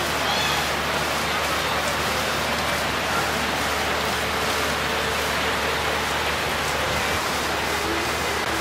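Steady heavy rain falls outside on Independence Day in India, a dense continuous hiss of drops on surfaces with no voices and no break across the stretch.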